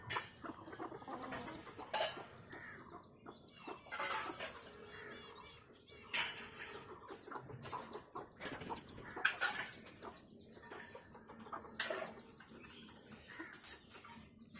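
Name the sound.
chickens and chicks clucking while feeding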